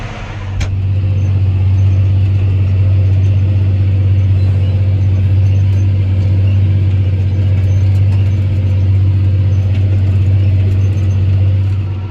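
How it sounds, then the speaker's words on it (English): A tractor engine drives a bed tiller in a potato field during potato planting, a steady loud low rumble holding without a break throughout, with no talking. "We are back on the bed tiller."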